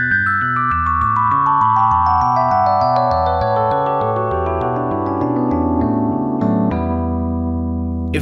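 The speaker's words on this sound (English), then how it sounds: "The iconic descending keyboard line is literally just working its way down the E Dorian scale." Descending keyboard line from a song, stepping down the E Dorian scale over a steady low bass pulse; each note is clear and sustained, loud and close, with no talking.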